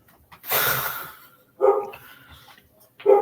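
A dog lets out three loud, close barks at irregular intervals, with quiet pauses between them.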